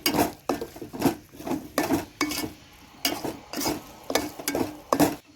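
Coriander thokku with fenugreek powder and mustard seeds is stirred in a pan, giving repeated rhythmic scraping and clinking strokes of a spoon against metal over a faint sizzle, close and clear.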